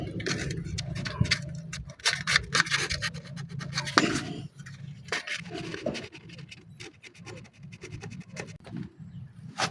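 Rusty electrical contacts on a TMX 125 motorcycle are sanded by hand, giving short, uneven scratchy rubbing strokes up close, with a few light clicks in between.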